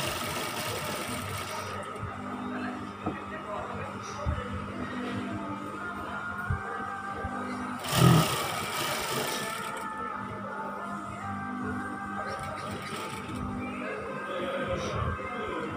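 A sewing machine stitches songket skirt fabric with a steady, close mechanical whir and a fast rhythmic chatter. It runs for the whole stretch, with a brief thump about halfway through and soft speech in the background.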